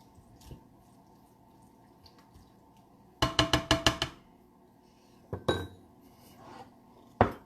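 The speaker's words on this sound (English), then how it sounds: "Put a little fresh lemon juice in there, maybe about half a teaspoon. Give that a stir." Lemon juice being stirred into a crab casserole mixture in a bowl, heard as a rapid close run of clinking spoon strikes against the bowl, then a few scattered clinks and taps in a quiet kitchen.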